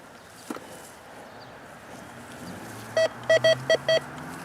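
A handheld metal detector sounds five short, clear electronic beeps in a quick uneven burst near the end, a false alarm over empty ground, after a single faint tap early on.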